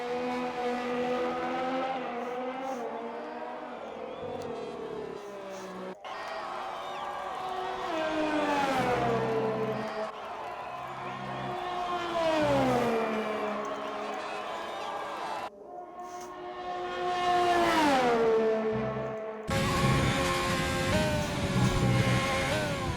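Race car engine on a lap in a Formula racing league video game at the British Grand Prix, a loud whining engine note rising and falling through gear changes and corners over the whole stretch, with a commentator talking over it.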